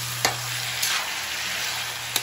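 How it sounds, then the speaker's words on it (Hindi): Chicken fries in a pan for a spicy Bengali-style red curry, with a soft steady sizzle broken by a few sharp scraping stirs, close and alone. "तो फ्राई करूंगी अच्छे से चिकन को।"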